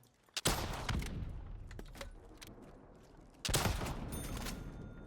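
A launcher fires in Black Ops 3 Zombies on Nacht der Untoten, two heavy blasts roughly three seconds apart, each followed by a rumbling decay, loud and close.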